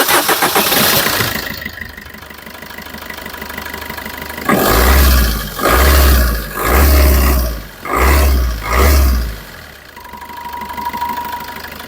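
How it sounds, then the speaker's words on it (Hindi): A Maruti Suzuki Dzire's engine cranks and roars to life, revving hard several times in strong bursts before settling into a steady idle. "तो आपने सुनी इसकी आवाज़ कितनी शानदार है एंड ये इंजन काफ़ी ज़्यादा मेंटेन्ड है"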